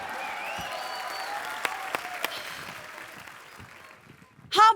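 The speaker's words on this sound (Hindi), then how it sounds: "मैं ताली का नेटवर्क चेक कर रहा था कि आ रही आवाज कि नहीं आ रही" A few sharp, separate hand claps ring out at home over a quiet background, with a louder burst of noise at the very end.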